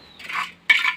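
Coffee beans being roasted scrape and rattle in a pan under a stirring utensil, two short bursts of close metallic scraping separated by a brief pause.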